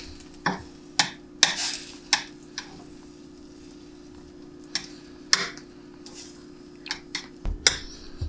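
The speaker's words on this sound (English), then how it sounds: "Stir that in." Spoon stirring a mixture in a pan while cooking a Thanksgiving meal, a few scattered scraping and clinking strokes over a steady low background hum, moderately close and fairly quiet.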